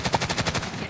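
Rapid automatic gunfire in the video game Warzone, a quick burst of about eight evenly spaced shots, close and loud, lasting under a second.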